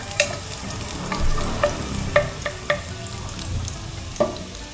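Garlic frying in hot oil until golden brown, a close steady sizzle broken by several sharp clinks and scrapes of a utensil stirring in the pan.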